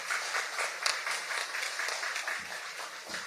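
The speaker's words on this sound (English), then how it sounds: "Can we give Lyndsey a big round of applause as this MC for this evening?" Audience applause at a literary event ceremony, dense clapping from a sizeable crowd that stays steady and moderately loud throughout, tapering slightly toward the end.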